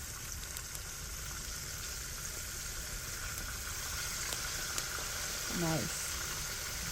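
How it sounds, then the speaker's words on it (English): Battered red snapper fries in hot oil with a steady, even sizzle throughout, and a brief faint voice-like sound near the end. "it's frying real nice there"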